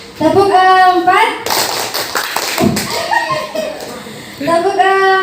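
Group of people clapping a counted clap pattern in a classroom-style session, with a dense burst of claps in the middle, framed by someone speaking before and after.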